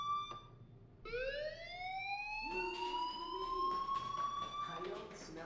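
A school fire alarm in the video game Life is Strange starts up and keeps going as a loud, rising electronic wail, and a voice talks over it.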